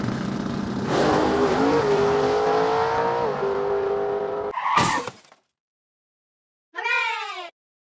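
Radio-controlled cars racing on a track at Milton Keynes Radio Controlled Car Club, a loud whining motor buzz with pitch sweeps for several seconds, then a sharp burst, silence and a short rising whine.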